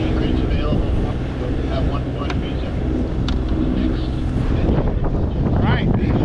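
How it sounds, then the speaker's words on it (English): Strong wind roars steadily and loudly across the microphone while out sailing on a boat in winter as the wind picks up, a continuous broadband rush with occasional gusts. "wind's coming up."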